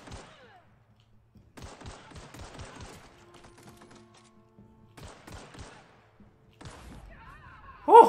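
Bursts of gunfire from The Outer Worlds video game, several rapid clusters of sharp shots spread across the stretch with quiet gaps between, and a brief voice near the end.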